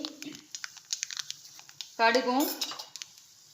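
Quick, irregular crackling pops from mustard seeds spluttering in hot coconut oil, with a voice briefly speaking over them partway through.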